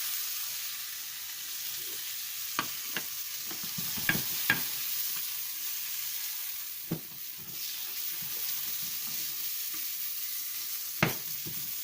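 A salmon fillet fries gently in a pan, a steady soft sizzle running throughout with occasional sharp clicks and taps of a utensil against the pan.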